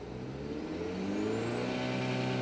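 Revving of a Cupra Leon 1.5 eTSI mild-hybrid engine, a steady mid-pitched drone that rises gradually in pitch as revs climb, heard fairly faintly from close by.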